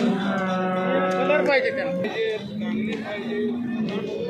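Cows moo repeatedly in long, low, drawn-out calls that overlap one another, close by, with some farmyard background noise.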